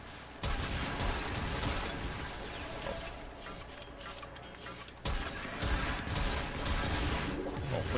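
Kuva Zarr cannon firing in Warframe during an elite Sanctuary round, dense bursts of heavy shots and explosions in rapid succession, briefly pausing near the middle before resuming.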